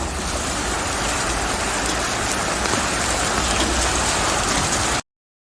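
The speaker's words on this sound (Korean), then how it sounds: "비가 많이 내리고 있습니다." Heavy rain pouring steadily onto a container roof and surrounding ground, a dense, loud hiss of drops that runs without a break, then cuts off abruptly.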